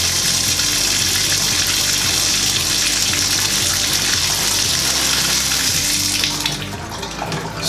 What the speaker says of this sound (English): I'll just run a little bit of hot water.